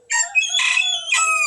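A conditioned fighting rooster lets out a single brief crow, close and fairly loud, with harmonic rising and falling segments and no talk over it.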